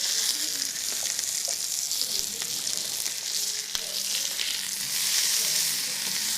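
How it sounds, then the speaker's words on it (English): A thick steak, sous vide cooked, sears in a hot pan with a continuous close sizzle and crackle, evenly loud throughout with a few sharp pops and no talking. "so we'll just give it a good sear on each side."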